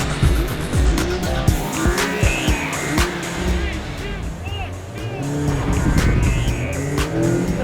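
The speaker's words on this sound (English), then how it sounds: "A little bit of wheel slip off the line" A 2016 Mazda MX-5 launches off the line in a drag race beside two 2015 MX-5s, with loud tire squeal and wheel slip under a revving engine. A voice talks over the noise.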